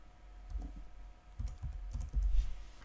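Quiet, close taps on a computer keyboard come in a few short bursts of keystrokes with gaps between them, heard alone without talk.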